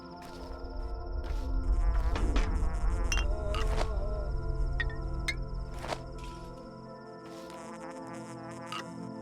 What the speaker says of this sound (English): That buzzing sound is a herb that's nearby that I can get.